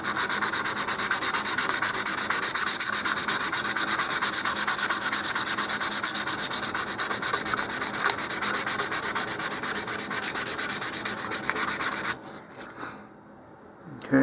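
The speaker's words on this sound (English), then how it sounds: "So I'm just going to start with some 220 grit sandpaper here. And I'm going to sand along the seam." Steady, close rubbing of 220 grit sandpaper along the plastic nose cone seam of an Estes Patriot Missile model rocket, a continuous rasping hiss for about twelve seconds before it stops abruptly.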